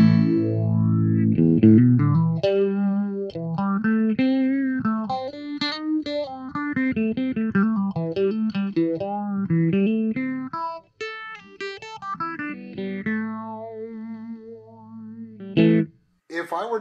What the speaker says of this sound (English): if we throw it on high mode, this is where people tend to run away from this pedal